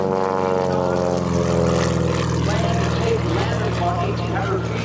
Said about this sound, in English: gentleman, Melvin, is from Alberta, Canada, flying the Glacier 3 in our Homebuilt Showcase.